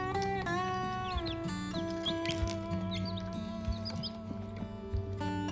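Young chicks in their first days, with high peeping calls repeating over a steady tonal background hum, faint and fairly close, no talking.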